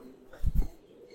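Pigeons coo nearby in a loft during the moulting season, one short low throaty double coo rising briefly over quiet background.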